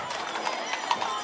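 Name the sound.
thoroughbred horses clip-clopping in a horse market parade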